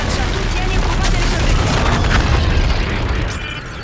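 Dense, continuous roar of gunfire and booming explosions in the video game Call of Duty: Infinite Warfare, loud and sustained throughout with no pauses.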